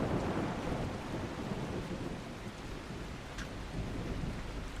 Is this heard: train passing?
no